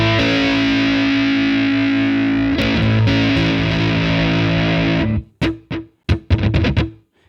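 An electric guitar through an OBNE Parting delay and reverb pedal holds a thick, distorted sustained chord for about five seconds, then breaks into choppy, stuttering repeated bursts separated by short silences, loud and up front.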